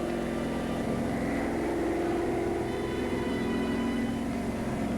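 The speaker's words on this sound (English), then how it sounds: "German reconnaissance plane." A German reconnaissance plane drones steadily overhead, a continuous even engine roar that holds at the same level throughout with no other sounds.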